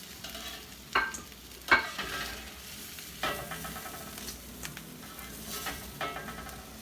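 Onions, shallots, fennel and garlic fry in olive oil in a paella pan, a soft, steady sizzle with a few sharper stirring scrapes and clicks near the start, close and without talk.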